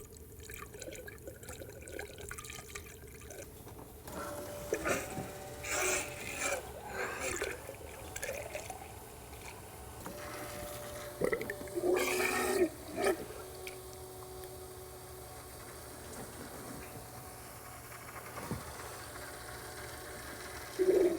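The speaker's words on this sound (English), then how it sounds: "key on to where it gets power and it'll pump water through the system" Water pumped through the intercooler system of a turbocharged Polaris RZR XP with an Aerocharger turbo, with quiet gurgling and bubbling drips and trickles, plus intermittent clicks and a faint electric hum, at close range.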